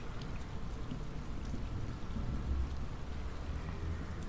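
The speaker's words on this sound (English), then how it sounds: "you hear some cawing muffled by the falling rain" Steady falling rain with a constant dense patter and low rumble throughout, moderately loud, with no voices.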